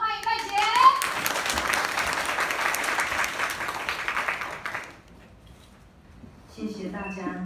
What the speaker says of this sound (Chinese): 掌声欢迎赖姐。